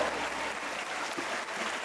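Audience at a school Onam celebration clapping for themselves, a brief, fairly quiet wash of many hands clapping at once, distant and even.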